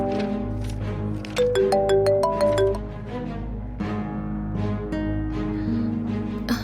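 A phone rings with an incoming call, its electronic melody sounding as a series of bright tones over a steady hum and background music.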